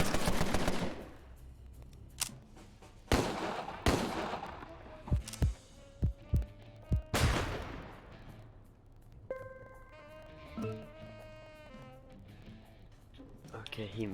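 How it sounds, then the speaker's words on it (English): Gunfire from a turn-based 1920s gangster strategy game, Empire of Sin, with a scattering of sharp shots and short bursts, followed by ringing, tonal game effects, all fairly close and moderately loud. "we're gonna shoot this guy"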